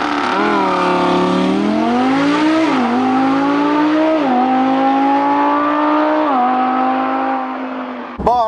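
An Audi R8 Spyder's V10 engine drives hard and loud up close, rising and falling through several revving gear pulls with a strong harmonic whine before easing off, then a sharp closing thump.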